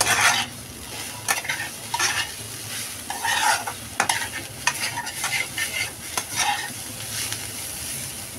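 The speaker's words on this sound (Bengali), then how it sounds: "আমার শাক ভাজাটা হয়ে আসছে প্রায়" Sechi saag greens frying in a pan, with bursts of sizzling and rhythmic spatula scrapes and stirring clatter recurring every second or so, up close and without speech.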